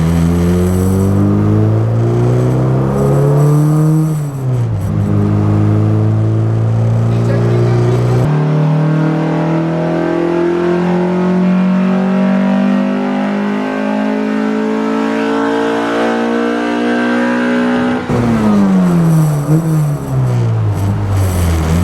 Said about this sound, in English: We need like 100 more RPM on the Vtec.